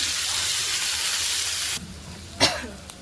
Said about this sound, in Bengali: এবারে আমি তেলে ভাজবো। তো মাংসের আলুগুলো ভেজে নেব হালকা